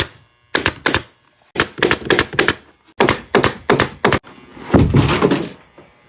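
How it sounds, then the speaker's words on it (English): Upholstery fabric being stapled onto a curved pontoon boat seat back: a run of sharp staple-gun shots in quick clusters of three or four, close and loud, followed by a broader rustling, pulling noise of fabric. "Staple the rest of it."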